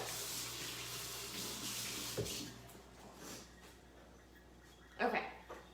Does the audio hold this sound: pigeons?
no